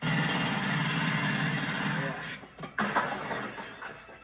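A power drill bores upward in a 1992 comedy film scene, a steady loud grinding roar that falters and breaks up partway through into scattered crunches and clatter.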